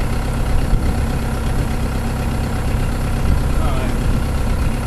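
A CX75SR excavator engine idles in a steady, loud, low rumble that runs unchanged from start to finish.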